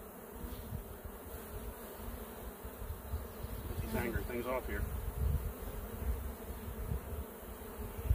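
Honey bees swarm and buzz steadily around honey super frames being pulled from a hive, a dense, continuous drone close by, with someone speaking briefly partway through.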